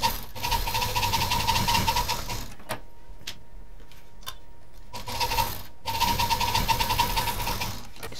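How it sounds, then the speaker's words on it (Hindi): Sewing machine stitching the two sides of a zippered pocket on a homemade three-pocket bag, two bursts of fast, close needle rattle and motor hum separated by a quiet pause with a few light clicks. "इसका दोनों साइड सिल देंगे।"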